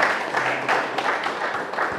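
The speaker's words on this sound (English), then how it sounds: "A round of applause for Mr." Applause and clapping from a Father's Day gathering as a speaker, Mr. Charles Mensah, is honoured, a steady wash of hands filling two seconds at moderate loudness.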